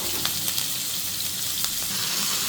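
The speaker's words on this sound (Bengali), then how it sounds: "এর জন্য আমি তেল দিয়ে পেঁয়াজ কাঁচামরিচ পেঁয়াজ কাটি দিয়ে দিচ্ছি" Onions and green chilies fry in hot oil for a bitter gourd stir-fry, giving a steady, dense sizzle with a few faint crackles throughout, close and alone with no talking.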